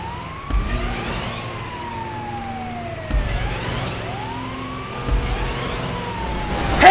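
An ambulance siren in a gaming race, its wailing tone sweeping down and rising again in repeated cycles, loud and close over a low engine rumble.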